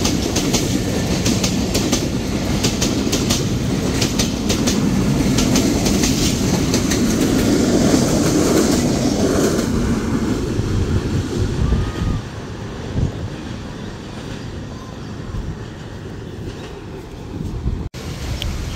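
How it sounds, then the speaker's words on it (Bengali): The Barendra Express passes through a station in the rain, a loud, close rumble of wheels and rattling carriages with rhythmic clickety-clack and wind buffeting that gradually eases as the train moves away. "কড়া হর্ন বাজিয়ে এই মুহূর্তে থ্রু পাস করে যাচ্ছে বরেন্দ্র"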